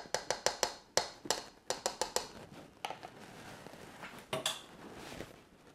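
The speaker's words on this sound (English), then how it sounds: "I'm going to stir this with a fork" A fork clinks repeatedly against a bowl while stirring peanut butter chocolate cake batter, sharp taps in quick bursts, then sparser scraping and tapping near the end; close and clear with no voices.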